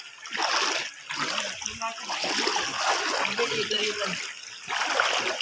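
Someone wades through deep floodwater in a flooded village in Begumganj, Noakhali, with repeated close splashes and sloshing water and voices faintly heard underneath.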